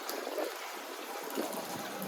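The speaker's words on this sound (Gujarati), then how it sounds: "દુબઈમાં કાલ રાતનો વરસાદ ચાલુ છે અને અહીંયા જો પાણીની સમસ્યા તો છે જ કેટલું બધું પાણી ભરાઈ ગયું છે" Floodwater from overnight rain in Dubai trickles and streams steadily nearby, a soft continuous watery wash with no voices.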